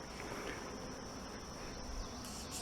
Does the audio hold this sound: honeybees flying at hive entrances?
yes